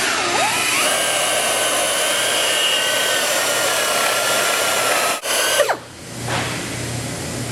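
A power drill drives a hole saw through boat fiberglass during a marine speaker installation, a loud steady whine and grind that runs continuously, then cuts off abruptly near the end as the saw clears the edge.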